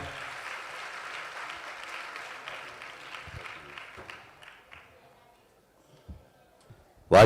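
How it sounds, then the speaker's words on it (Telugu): An audience at a Christian mission convention in Rajahmundry claps to welcome a speaker: moderate, steady applause from a large crowd fades out over several seconds, leaving a few scattered claps and bumps before a sudden loud thump at the end. "చప్పట్లు కొట్టి వారిని ప్రేమతో ఆహ్వానిద్దాం."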